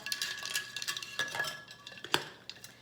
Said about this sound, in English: so I will just kind of stir it around with the straw